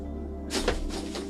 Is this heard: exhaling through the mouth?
no